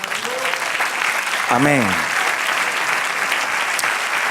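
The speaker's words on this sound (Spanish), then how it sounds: "Dale otro aplauso al Señor" A church congregation claps in steady applause to the Lord while a voice calls out briefly over the clapping.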